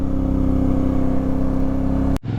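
A loud, close motorcycle engine strains at high revs on a steep uphill climb, droning steadily before cutting off abruptly near the end.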